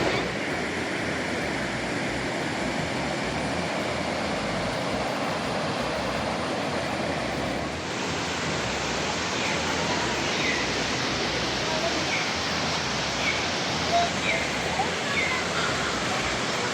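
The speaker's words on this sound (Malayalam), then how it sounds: "നല്ല അടിപൊളി വെള്ളം കാട്ടിൽ നിന്ന് ഒഴുകി വരുന്നുണ്ട്." River water from the forest rushes over the rocks at Paniyeli Poru, Ernakulam, making a loud, constant roar close by that holds steady with no breaks.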